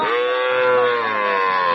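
A young bull calf moos at the Panchbibi cattle market, one long, loud, close bellow that holds steady and slowly falls in pitch.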